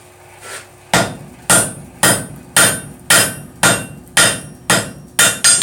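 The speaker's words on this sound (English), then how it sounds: "I'm going to just start these again just by hammering straight down on them." Hot metal is struck on an anvil during a forging session, nine loud ringing hammer blows landing in a steady, even rhythm with no talking.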